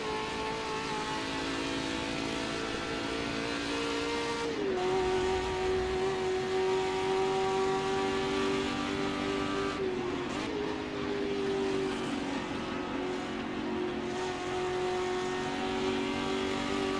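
A Ford GT40 race car in the Assetto Corsa racing game at Spa holds a loud, steady engine drone throughout, with a brief pitch dip and recovery as it shifts or lifts, and no talk over it.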